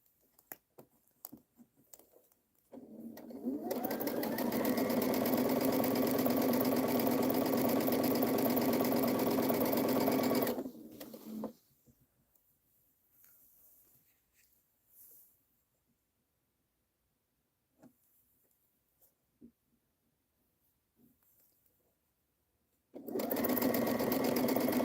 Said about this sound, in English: sewing the second piece on all these squares